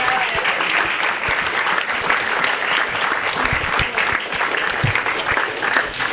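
Sustained applause from an audience after an author reading, a dense and steady round of many hands clapping at close range for several seconds without pause.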